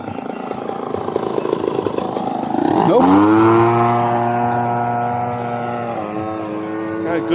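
Aircraft flying past, a steady engine drone that swells as it comes across, rises to a loud sustained tone with a falling pitch, then eases off slightly.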